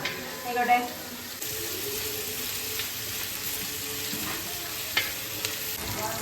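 Ingredients sautéing in a pan for vegetable biryani, a loud, steady sizzle running throughout, with a few scrapes and knocks of a stirring spoon near the start and end.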